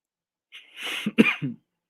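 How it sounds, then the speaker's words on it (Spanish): A woman with a lingering cough lets out a short cluster of rough, close coughs, three or four throaty bursts in quick succession, then silence. "estoy con mucha tos todavía"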